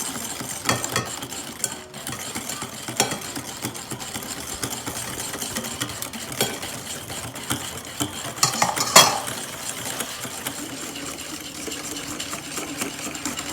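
Hot milk and eggs for a mango tart filling are stirred fast in a pan, giving a soft, continuous scraping and swishing with light clinks of the utensil against the metal.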